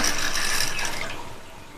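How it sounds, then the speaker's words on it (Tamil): Sago pearls being rinsed with water in a bowl, a brief splashy liquid swish that fades over under two seconds, with no talking. "இப்போ இந்த மாவு ஜவ்வரிசியை நம்ம இந்த பவுலில் சேர்த்துட்டு வாஷ் பண்ணி 1/2 மணி நேரம் ஊற வச்சுக்கலாம்."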